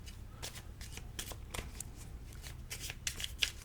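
A deck of cards is shuffled by hand in a quiet room, a run of soft, papery riffles and flutters in quick bursts, heard up close with no voices over it.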